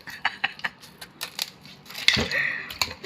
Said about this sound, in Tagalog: Gunting na lang ginamit ko.